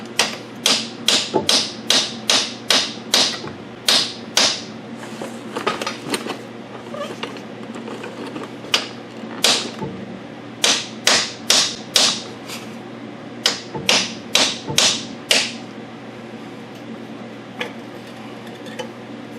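A vice grip and deep socket in use on a repair job, giving a series of sharp metallic clicks and taps in quick bursts with pauses between them, close and fairly loud.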